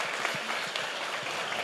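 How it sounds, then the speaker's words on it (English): Audience clapping at a real estate masterclass session in Orlando, steady dense applause from a crowd throughout, moderately loud and without break. "One more round of applause for Michael J. Maher."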